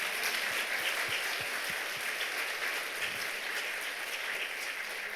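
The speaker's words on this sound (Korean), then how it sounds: "우리 하나님께 영광의 박수드립니다." A church congregation at an evening revival service applauds in a steady, moderately distant wash of clapping that continues evenly for several seconds.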